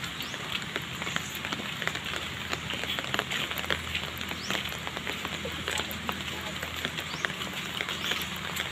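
Steady rain patters and ticks on a surface nearby, a dense crackling hiss that continues throughout, with occasional voices beneath it.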